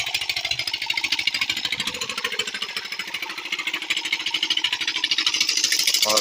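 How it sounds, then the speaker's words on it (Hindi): A freshly repaired engine runs at a village workshop with a loud, steady, rapid thumping beat, close by and unbroken for the whole stretch, with no voices. "अब इंजन बन चुका है और अब चल रहा है"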